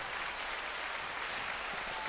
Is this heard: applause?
yes